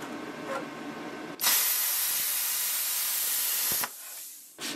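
Loud, steady hissing roar as a piece of aluminum sheet is cut, lasting a couple of seconds before stopping abruptly, with quieter background sound around it.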